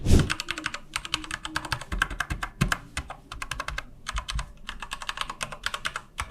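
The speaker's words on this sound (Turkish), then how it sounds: "Klavyemiz çok tok ve çok güzel bir sese sahip." Rapid typing on a Corsair K65 Mini RGB mechanical keyboard with Cherry MX Red switches: dense, close, crisp keystroke clatter in quick bursts with brief pauses, no voices.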